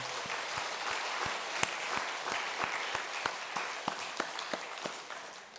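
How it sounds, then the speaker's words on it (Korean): A church congregation at a Sunday worship service claps, a soft, distant patter of many hands carried through the sanctuary, with scattered sharper claps standing out in an uneven rhythm. "우리 하나님께 영광의 박수 올리겠습니다."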